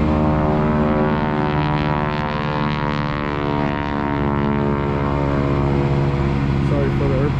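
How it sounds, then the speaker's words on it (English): A propeller airplane flies overhead outside a food concession trailer in Texas, its steady droning engine hum loud and continuous throughout. "Sorry for the airplane."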